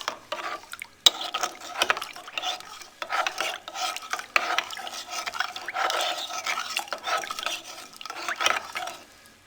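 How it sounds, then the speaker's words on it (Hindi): A spoon stirring pani puri filling with lemon juice, repeated scraping and rubbing strokes against the bowl in an irregular rhythm, close and fairly quiet with no talk. "अब चम्मच की मदद से इसको हम अच्छे से मिक्स कर लेंगे"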